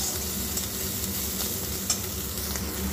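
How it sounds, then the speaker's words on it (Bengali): Prawns fried in a pan hiss and sizzle steadily while being stirred, with occasional scraping taps of the spatula against the pan, close and continuous with no talk. "চিংড়ি মাছটা একটু নাড়াচাড়া করে আমি ভেজে নিচ্ছি"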